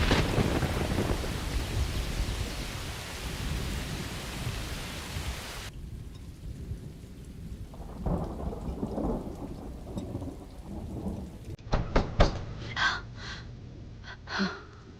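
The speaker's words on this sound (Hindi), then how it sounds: "इसलिए गड़गड़ाहट ज्यादा हो रही है।" Heavy rain pours steadily during a thunderstorm while thunder rumbles and cracks, building to sharp loud claps near the end, with the rain's hiss changing character partway through.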